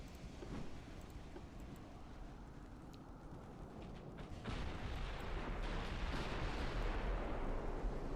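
Warship gun salvo in the naval game Ultimate Admiral: Dreadnoughts, a dense rumbling roar of distant heavy gunfire that builds into a louder, continuous wash of booming artillery.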